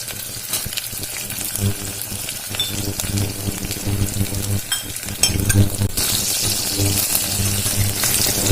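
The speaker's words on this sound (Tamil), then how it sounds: "வெங்காயம் நல்லா ஃப்ரை ஆயிடுச்சு." Garlic and onion fry in a pan for ration-rice paruppu sadam, a steady close sizzle and crackle with occasional stirring scrapes, loud and continuous with no talking.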